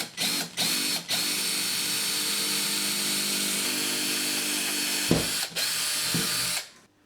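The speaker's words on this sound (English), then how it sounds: "I'm going to drill through there using a very small drill bit" A drill with a very small bit bores through a door to fit a bathroom indicator bolt, a loud continuous whine broken by a few brief stops and ending as it winds down.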